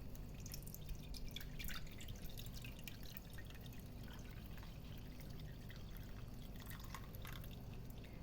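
Water poured over sour cherries while making cold-pressed sour cherry juice makes a steady, fairly quiet trickling pour with scattered drips and splashes that runs for the whole stretch.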